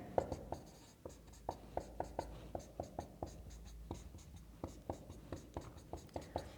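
Chalk or marker tapping and scratching on a board as chemical structures are written in a chemistry lecture, a steady series of short, crisp strokes at close range, with faint room noise beneath.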